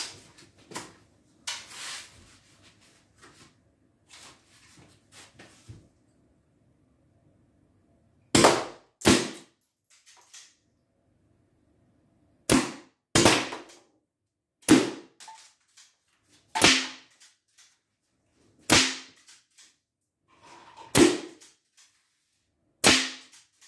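Guns fired into homemade ballistic gel: about ten sharp, loud shots spaced a second or two apart, after quieter clicks and handling noises from reloading.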